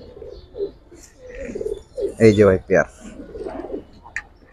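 A female pigeon in a loft coos in soft, throaty bursts, a few rolling calls clustered in the middle, close by, while someone talks over and between them.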